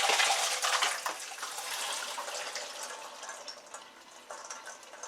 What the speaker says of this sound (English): let's go ahead and drain them in the colander and set them aside